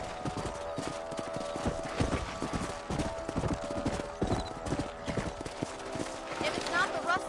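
Horses trot in the video game Red Dead Redemption, their hooves clip-clopping in a brisk, steady rhythm at moderate distance over a continuous background bed, with a faint whinny.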